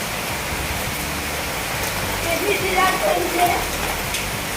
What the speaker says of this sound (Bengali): প্রচণ্ড জোরে বৃষ্টি শুরু এত জোরে বৃষ্টি পড়ছে যে ঘরের ভেতরে বন্যা